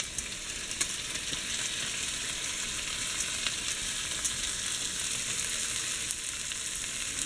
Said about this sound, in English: Okay, so now we're going to add the corn.